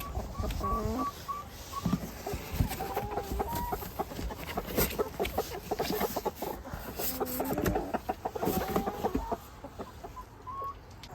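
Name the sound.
chickens clucking in a farm run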